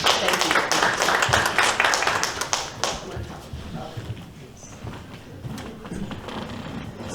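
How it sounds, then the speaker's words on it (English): An audience claps for the actors at a rug-making demonstration, a loud burst of applause at first that thins to scattered claps and fades, with faint voices underneath. "A big round of applause for our actors"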